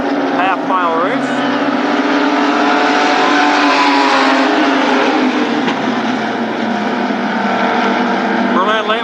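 Late model stock cars roar around a half-mile oval at Berlin Raceway, engines loud and continuous as they pass, with a commentator's voice speaking over the racing noise.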